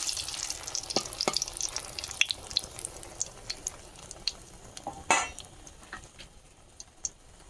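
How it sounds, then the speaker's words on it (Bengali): Dried red chillies fry in oil with a soft sizzle, broken by scattered sharp clicks and stirring knocks close by, quiet overall with no talk. "শুকনো লঙ্কা ভেজে নিই আলু মাখবো বলে"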